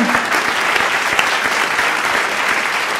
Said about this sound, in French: vous pouvez applaudir, allez-y, hein, c'est sympa.